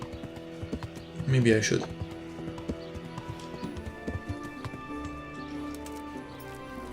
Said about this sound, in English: Get off the horse then, in that case